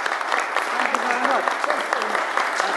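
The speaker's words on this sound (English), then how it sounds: "So please join with me for applauding this man." An audience applauds an award winner at an event, a dense, steady patter of clapping with a few voices audible in the crowd.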